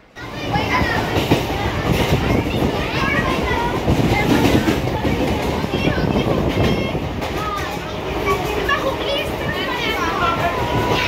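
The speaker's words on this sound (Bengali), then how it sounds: "তো আমরা এখন বেলুড়ের ট্রেনে উঠে পড়েছি" Train ride on a local line from Belur towards Hooghly station, with a steady rumble of the rail carriage throughout and busy chatter and children's voices over it.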